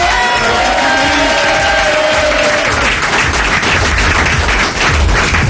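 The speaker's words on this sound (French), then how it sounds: "vous pouvez vous applaudir, vous dire bonjour" Live studio audience at a radio broadcast from a Pierre et Vacances resort in Cannes, applauding and cheering loudly and steadily throughout, a dense crowd wash with some tonal voices early on.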